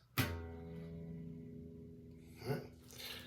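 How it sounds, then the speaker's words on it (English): A single low E guitar string is plucked and rings out with a sustained, slowly fading tone, followed by a faint soft touch near the end. "We're going to call this the low E, and it sounds like this."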